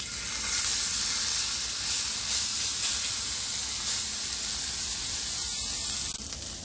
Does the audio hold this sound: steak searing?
yes